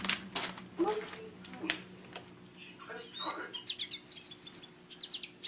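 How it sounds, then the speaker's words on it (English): A push-button toy bird gives a run of bright, rapid chirps in the second half, close and moderately loud, after a few scattered knocks and clicks, with a voice and an adult nearby. "Can you make the bird sing?"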